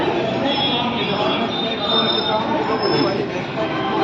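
A train passing nearby, a loud continuous rumble with metallic wheel screech and rattling that holds steady throughout, while people talk over it.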